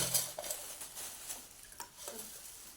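Roasted ingredients being stirred and mixed in a pan during Halshashti (Khamar Chhath) vrat puja cooking, giving soft intermittent scraping and clinks of a utensil against the pan, quiet and close with no talk.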